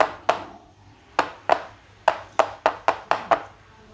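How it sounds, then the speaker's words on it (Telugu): A bowl of Oreo cake batter is tapped against a surface in sharp, separate knocks, about nine in all, spaced unevenly and growing quicker toward the end, close and clear with no voices. "ఇప్పుడు దీన్ని అంతటిని కూడా ఇలా ట్యాప్ చేయాలి."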